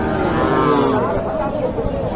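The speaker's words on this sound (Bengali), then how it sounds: "গরুটা খুব সুন্দর একটা গরু।" A cow moos loudly and close at a village cattle market, one long drawn-out low call with faint crowd murmur behind it.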